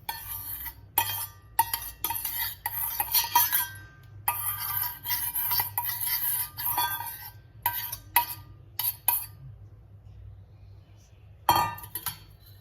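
A metal spoon stirs curd and cream in a pot for hand-free butter making, giving repeated bright clinks and scrapes against the vessel in uneven bursts, with a short pause before a final clatter.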